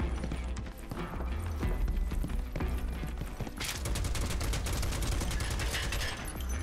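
Gunfire from the video game Final Fantasy VII Rebirth, a dense rapid burst of repeated shots that grows louder and more sustained in the second half over a low rumbling game backdrop.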